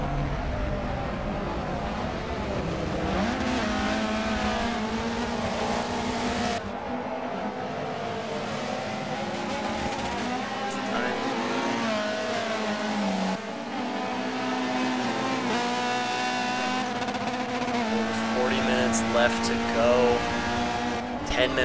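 Race cars battle at Sebring in a Michelin Pilot Challenge round, including a Honda, Chevy Cruze and Audi, engines droning and shifting pitch as they pass, with a commentator talking over the steady track noise.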